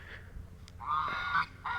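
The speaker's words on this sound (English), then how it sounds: "Those are geese" Geese honk a few times, a short call followed by a longer, louder honk and another brief one, somewhat distant with background hiss.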